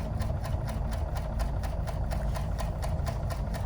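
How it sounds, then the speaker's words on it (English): Serger running a rolled hem, a close, steady mechanical whir with a rapid regular clatter of stitches throughout, no talk. "And I'm just going ahead and stitching a second time."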